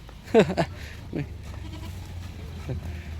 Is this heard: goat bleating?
yes